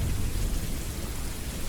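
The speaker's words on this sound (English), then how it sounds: "rain falls through like the leaves as individual particles" Rain from the Fractal Frontiers game falls as individual particles through foliage, giving a steady, dense rain hiss with a low rumbling bed that holds evenly throughout, with no voices.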